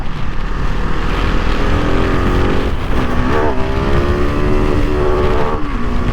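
A KTM 690 SMC R supermoto engine revs hard and slams into its rev limiter, a loud, close, buzzing howl whose pitch climbs and stutters repeatedly as the limiter cuts in.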